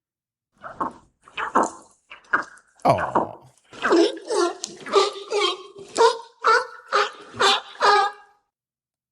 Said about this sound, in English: California sea lion